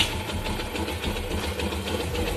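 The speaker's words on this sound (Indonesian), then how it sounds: "kita nyalakan mesinnya geng" A motorcycle engine fitted with an Uma Racing part runs at a steady idle, a close, continuous mechanical chatter with rapid ticking pulses and no voices over it.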